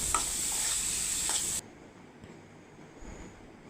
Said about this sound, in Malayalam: പിന്നെ ഫ്ലവർ നന്നായി അതിൽ മിക്സ് ആക്കി കൊടുക്കുക